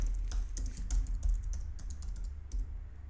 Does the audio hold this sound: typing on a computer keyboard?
yes